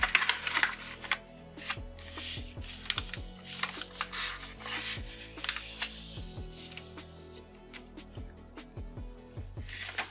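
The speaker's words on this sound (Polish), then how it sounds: "składamy po przekątnej, najpierw z jednej strony, rozwijamy, a dalej z drugiej strony." Close, soft rustling and sharp creasing of paper being folded diagonally for origami, repeated crisp swipes and rubs in an irregular rhythm, no talking.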